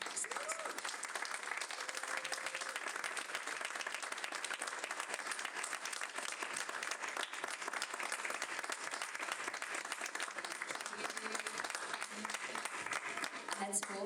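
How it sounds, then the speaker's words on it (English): A church audience gives a warm round of applause as a speaker is welcomed to the stage at an Ignite Sessions event, continuous dense clapping filling the room for its whole length, with some voices mixed in. "if we could give a warm round of applause"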